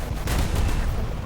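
A short burst of gunfire in War Thunder VR, a few sharp cracks in quick succession over a dense rumbling background.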